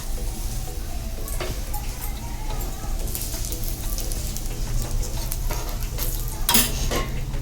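Cheese parota frying in plenty of oil on a pan after being flipped: loud, continuous close sizzling with bursts of crackle and occasional scraping of a utensil.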